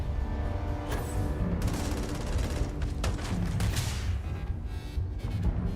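Continuous gunfire and explosive bursts from a Starfield firefight, loud and dense throughout with sharp cracks layered over a heavy rumbling barrage, no talking.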